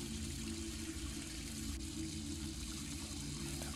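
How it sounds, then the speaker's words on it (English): Water leaks from a broken pipe in the horror video game Graveyard Shift, a continuous low trickling and gushing that runs steadily, fairly quiet with no speech. "It's got a leak in the pipe."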